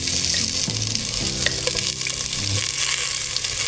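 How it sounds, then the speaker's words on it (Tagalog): Onion, ginger and garlic sauté in a hot pan for tinola, a Filipino chicken soup, giving a continuous close sizzle with faint stirring and no talking. "gisa na po natin yung ating sibuyas tsaka luya"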